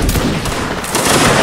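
Musket volley fire in Mount & Blade: Warband Napoleonic Wars during a line battle, a dense rolling crackle of many overlapping shots, loud and continuous, with a heavier burst near the end.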